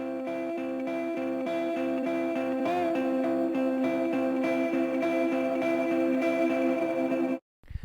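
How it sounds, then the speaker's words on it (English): An electric guitar rings out with sustained chords and sparse picked notes, its reverb swelling so the sound grows fuller and more spacious over several seconds before cutting off abruptly, with no voices present. "The first one is this electric guitar that I played."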